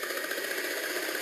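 A 2012 Hess toy truck plays its electronic takeoff sound effect, a steady roaring rumble with a hissy, tinny edge from a small speaker, continuous and fairly loud for its brief length.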